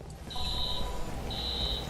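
A security alarm trips in the video game Watch Dogs: two fairly faint, high electronic tones, each sustained about half a second, rise over a low ambient background.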